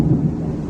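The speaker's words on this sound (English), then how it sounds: "The storm is a brewing." Deep, rumbling thunder from a brewing storm rolls loud and steady through the whole short stretch, with no voices present.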